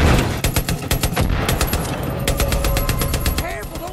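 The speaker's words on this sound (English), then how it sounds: "Take them out with the guns." Rapid machine-gun bursts in the video game Far Cry New Dawn, loud and close, sharp rattling shots in quick clusters with brief pauses between them.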